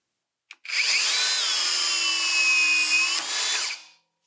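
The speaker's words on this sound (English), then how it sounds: "When you pull the trigger, you'll feel the bolt snap" Shear wrench tightening a twist-off tension control bolt: a sharp click, then a loud, steady high-pitched electric whine for about three seconds, dipping slightly near the end before winding down to silence.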